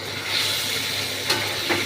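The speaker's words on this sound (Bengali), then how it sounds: "একটু ভাজাটা হোক, নেড়ে নেড়ে দিই।" Pointed gourd sizzles steadily while frying in hot mustard oil, being cooked for a sesame and poppy seed paste curry, with a couple of soft scraping stirs of the spatula close by.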